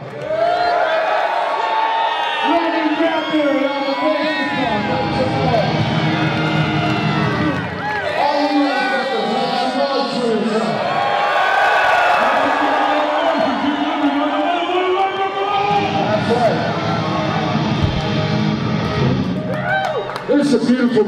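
Crowd at a punk concert cheering, whooping and shouting in loud, surging waves, individual yells rising and falling over a dense roar of voices that continues throughout.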